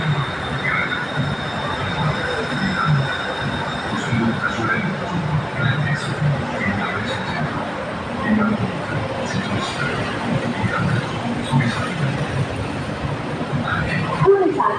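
A BTS Silom Line electric skytrain rolls into Saphan Taksin station with steady rumbling, rising squeals and wheel noise, a constant loud mechanical wash with announcements for National Stadium and voices mixed in.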